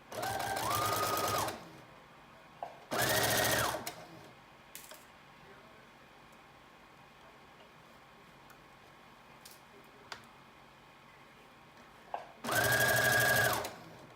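A sewing machine stitches around the collar and lining of a McCall's 7569 mermaid prom dress, running in three short, close bursts with quiet pauses between them.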